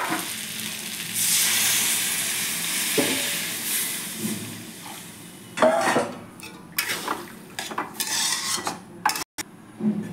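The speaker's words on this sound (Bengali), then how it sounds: "এবার আমি জল দিয়ে দেবো, ভালো করে কষে গেছে, সিদ্ধ করা জলটা দিয়ে দেবো।" Boiled water is poured into ghugni masala frying in a pan, sending up a loud hiss and sizzle, followed by utensil clinks and scraping stirs against the pan, close up with no talk.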